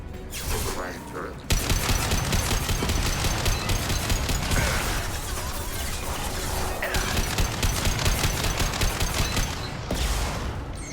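Automatic turret fire in the sci-fi shooter Mass Effect 2, heard as dense rapid bursts of gunfire repeating for several seconds at close range, with a brief quieter lull before the shooting starts.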